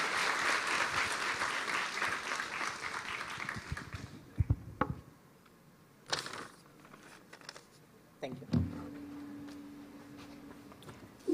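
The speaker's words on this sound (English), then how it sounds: "you have to give him another round of applause" An audience at a college induction event applauds after a talk, dense clapping for about four seconds that fades to scattered claps and quiet shuffling.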